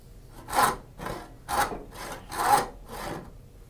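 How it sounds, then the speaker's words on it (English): Tenon saw with fairly coarse teeth cutting a tenon in a wooden board for a Shaker table, five rhythmic rasping strokes about a second apart, close and clear with no talking. "this tenon saw has a little bit bigger teeth, so it tends to catch"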